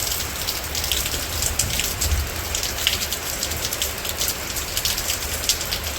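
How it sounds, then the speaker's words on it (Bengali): Medium rain falls steadily in a village, a dense, even patter of drops on surfaces nearby that carries on without letup and with no talking. "মিডিয়াম বৃষ্টি আর কি।"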